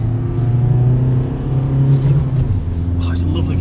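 A car pulls hard through its gears, the engine rising in pitch and then dropping at a shift, with a voice over the close engine drone.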